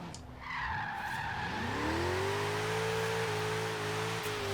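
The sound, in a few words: jeep tires spinning and drifting in video game Forza Horizon 3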